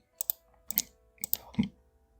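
Someone types coordinates on a computer keyboard, a few short bursts of crisp key clicks in uneven rhythm, close and clear against a quiet room.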